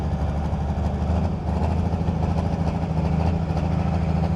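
An old tractor engine runs steadily at a tractor pull, a loud, low, continuous rumble with a chugging rhythm that holds for several seconds without any talk.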